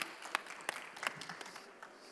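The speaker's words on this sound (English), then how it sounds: "A round of applause for our panelists" Applause for the panelists at an AI for Good session at India Mobile Congress, faint and thin, with a few distinct sharp claps rising above a soft scattered patter.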